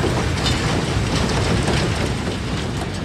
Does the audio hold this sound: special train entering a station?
yes